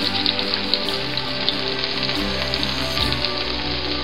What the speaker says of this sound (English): added some onions, that one whole chopped onions, to the skillet